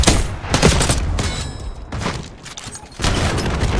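Loud, dense gunfire from the shooter game Black Ops 6 rattles in sustained bursts, easing briefly before another heavy volley, with no clear talking.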